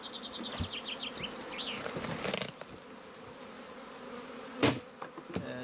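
Honeybees buzz around a hive that is being relocated for sanitary reasons. Several insects drone and whine close by, with brief knocks and rustles between them.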